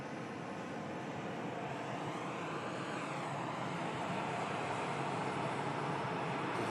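A TUI Boeing 737 taxis at Manchester Airport, a distant, steady jet engine rumble and whine with a broad hiss that swells slightly partway through, and no voices.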